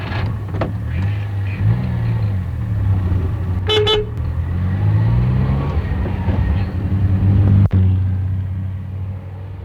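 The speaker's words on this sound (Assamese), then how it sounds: "গাড়ী এখন ওলাই যোৱাৰ শব্দ" Car pulling away as a sound effect in an Assamese radio serial reading, with a steady low engine rumble throughout, a short horn toot midway and a sharp click near the end.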